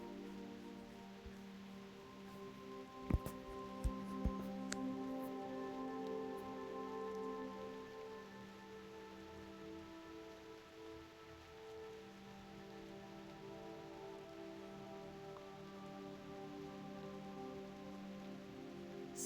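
Steady rain falls in the video game Reverse 1999, an even, soft patter over a sustained musical backdrop with a few brief brighter drips near the start; nobody speaks.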